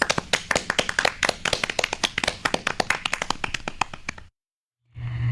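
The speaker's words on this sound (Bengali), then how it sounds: "সবার জন্য জোরে হাততালি হবে" Children clap together on a Bengali children's radio programme after a recitation session, a brisk burst of dense handclaps lasting about four seconds before stopping abruptly, followed by a brief low hum.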